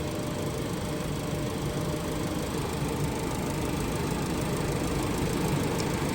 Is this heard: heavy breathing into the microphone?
no